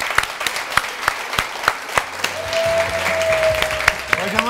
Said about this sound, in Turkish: Hemen davet edeyim alkışlarınızla kulak burun boğaz uzmanı Profesör Doktor Dilaver Öztuğran.